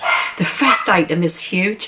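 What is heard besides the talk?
dog barking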